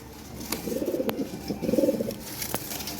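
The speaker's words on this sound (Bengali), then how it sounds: "এটা অরিজিনাল ইউরোপিয়ান টয় বিটের কবুতর রেড টয় লাহরি" Red European toy Lahore pigeons coo nearby in two soft, throaty rolling bursts, with a few light clicks and rustles between them.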